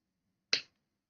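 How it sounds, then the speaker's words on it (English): A single crisp finger snap, close and fairly quiet, standing alone in an otherwise silent room. "Can you guys hear me clicking my finger, by the way?"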